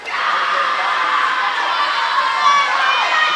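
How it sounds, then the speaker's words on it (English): At a high school swim meet between Marine City and St. Clair, teammates cheer swimmers toward the finish with a loud, continuous wash of shouting and whooping voices echoing through the pool area. "Always good to see people cheering on their teammates as they finish"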